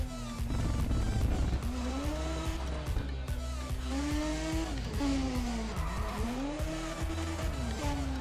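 Car drifting in Need for Speed ProStreet with loud, sustained tire squeal over a roaring race engine that rises and falls in pitch, continuous and close.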